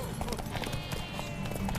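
Horse hooves clip-clopping in the video game Witcher 3, a quick, fairly faint rhythmic trot under faint in-game sounds.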